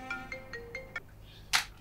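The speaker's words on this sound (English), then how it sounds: "Oh, my phone is ringing." A mobile phone rings with a bright electronic ringtone, five quick evenly spaced tonal beeps followed by a short louder burst, fairly faint and alone without talk.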